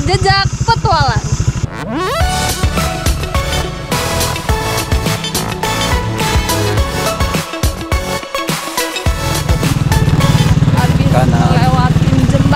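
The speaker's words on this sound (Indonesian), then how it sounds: "Jadi kita sekarang lagi menuju tempatnya naik motor" A motorcycle travels an off-road forest track in West and North Lombok. The engine drones steadily close by and revs harder toward the end, with voices over it.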